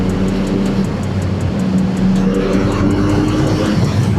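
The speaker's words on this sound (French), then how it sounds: "cette poignée de gaz, à peine je donne un coup, ça y est, ça envoie quoi" CF Moto motorcycle engine revving hard under throttle twists while riding, a loud steady drone with rising pitch and wind noise, no talk.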